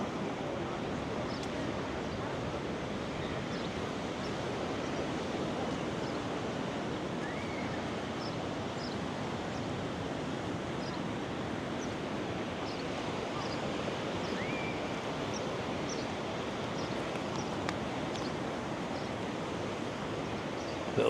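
Waves wash steadily onto a sandy beach at Calpe on the Spanish coast, a continuous broad surf roar with faint bird calls and no clear breaks.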